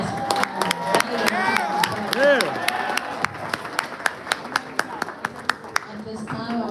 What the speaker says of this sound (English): Please give another round of applause for the new boys volleyball basketball